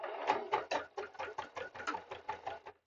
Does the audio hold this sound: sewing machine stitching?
yes